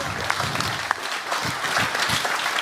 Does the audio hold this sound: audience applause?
yes